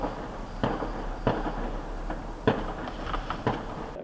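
Series of sharp pops in downtown St. Louis during a shooting, about six or seven bangs spaced irregularly over a few seconds, moderately distant against a low steady hum.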